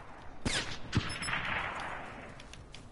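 Gunfire in a PS4 shooter game: a couple of sharp close shots followed by a faint, rattling burst, quiet and brief over low game ambience.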